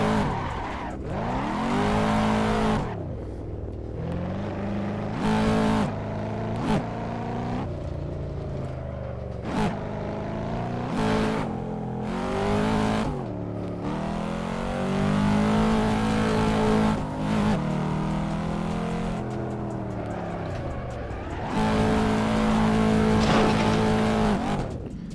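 A race car in the sim racing game Assetto Corsa, clutch-kick drifting without an e-brake: the engine revs up and drops repeatedly, with bursts of tire squeal and skidding between gear changes, loud and close throughout.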